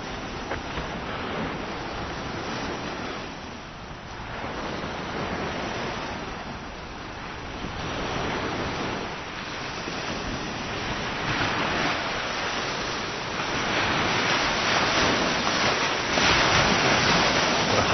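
Sea waves wash onto the shore at Niihama late at night, a continuous broad rushing surf that swells louder toward the end, with some wind noise on the microphone.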